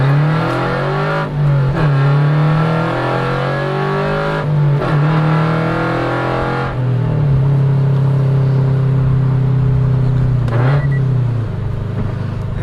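Scion FR-S with a header-back performance exhaust and resonator accelerating hard through the gears on the street, a loud, continuous engine drone that climbs in pitch, briefly dips at each shift, then rises again.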